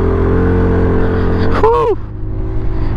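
XDV250i motorcycle ridden at night, a loud steady engine drone with a sharp rising-and-falling whine partway through, then the engine note dropping lower and rougher.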